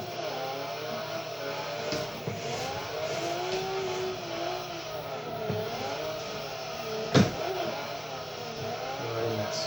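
Simulated car engine revving and tyres working as a rear-wheel-drive car drifts sideways around the Maple Valley track in Forza Motorsport 3, a steady droning engine note with rising and falling pitch and one sharp bump near the end.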